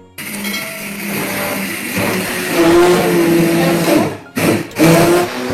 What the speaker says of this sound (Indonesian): Biasanya saya blender lagi pakai hand blender supaya bisa lebih halus lagi.